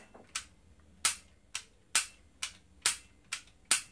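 A K35 air rifle with a steel body fires six sharp, loud cracks at a steady, roughly even pace, each snapping out and decaying quickly over a quiet background.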